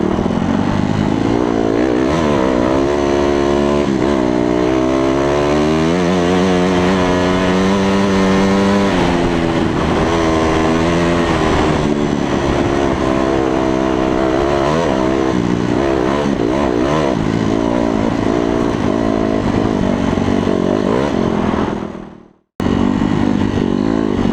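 A Kawasaki motorcycle engine drones loudly and continuously while riding, its pitch rising and falling with throttle changes, then cutting out abruptly near the end before resuming.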